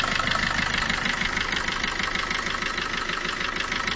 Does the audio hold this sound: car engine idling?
yes